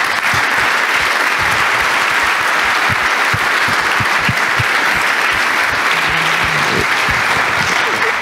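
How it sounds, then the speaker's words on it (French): A conference audience at a closing session gives the organizing staff a long round of loud applause, dense and continuous clapping from a large crowd with faint voices mixed in. "c'est la bonne occasion de les applaudir, tout le staff"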